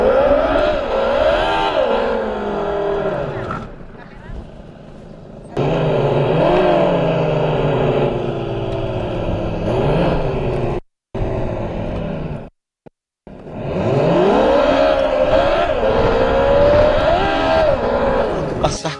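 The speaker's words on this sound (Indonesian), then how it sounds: "Aku gas dikit nih" A go-kart engine at an outdoor kart circuit in Makassar revs hard and loud, climbing and falling in pitch through repeated bursts of acceleration, with brief cut-offs and a person talking over it.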